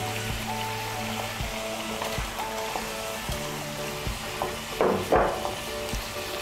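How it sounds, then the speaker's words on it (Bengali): Spiced gravy for doi paneer boiling in a pan, a soft, steady bubbling and sizzle with light repeated clinks and scrapes of stirring and a brief louder splash near the end, alone without talk. "এই দেখুন ঝোলটা আমার ফুটে উঠেছে"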